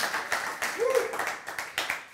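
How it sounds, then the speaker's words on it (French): An audience at a talk on inner peace bursts into applause, a quick run of hand claps with a rhythmic pulse, fairly close, mixed with a voice. "j'aimerais qu'on fasse une main d'applaudissement à tout péter"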